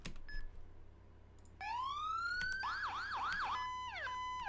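A video game ambulance's electronic siren rises in a long wail, then switches to quick repeated yelps and a hi-lo pattern, clear and fairly close.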